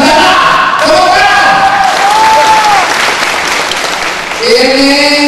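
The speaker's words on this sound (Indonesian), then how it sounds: "Tepuk tangan." Audience applause in an indoor futsal hall during a political campaign dialogue, loud dense clapping from a crowd mixed with tonal voices and shouts, swelling again near the end.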